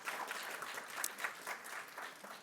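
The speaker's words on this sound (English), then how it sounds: "First round of applause to Tasneem." Audience applause at a journalism award ceremony honoring a Bangladeshi editor, an even, sustained patter of many hands heard somewhat distant and soft.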